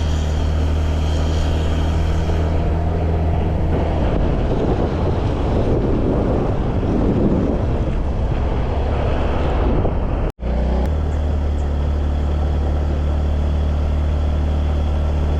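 Heavy, constant wind roar buffeting the microphone while riding a motorbike along coastal roads in Goa, a dense rumbling rush that swells in the middle and cuts out for an instant before continuing.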